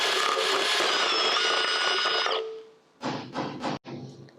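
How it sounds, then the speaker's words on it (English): A power drill spins steadily inside a go-kart exhaust stinger to clear carbon, a loud high whine that cuts off abruptly, followed by a few short, sharp bursts of running. "this drill won't remove any metal, it just removes all the carbon"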